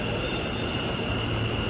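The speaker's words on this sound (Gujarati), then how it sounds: "અને આવી ગઈ મેટ્રો." An Ahmedabad metro train pulls into a station with a steady, loud rumble and rolling rail noise filling the whole stretch, alongside a constant high electrical whine.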